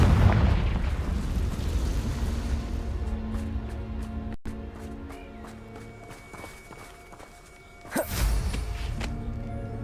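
A Confringo blasting spell in Hogwarts Legacy bursts with a heavy explosive boom, then rumbling fades into quieter footsteps before a second sharp blast near the end.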